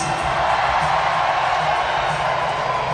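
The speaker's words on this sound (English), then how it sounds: "So a loud rumble of the crowd, as you can hear" A large arena crowd roars in a steady, loud, continuous rumble of cheering and whooping throughout, with no pauses.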